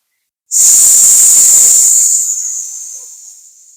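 A single long, breathy hiss from a qigong breathing exhale begins abruptly and holds steady, then slowly fades away over a few seconds with no other sound around it.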